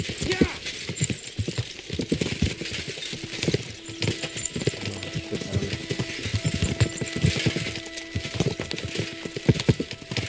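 In a video game, hooves clip-clop steadily at a quick trot, several horses close by, with rustling and faint voices mixed in.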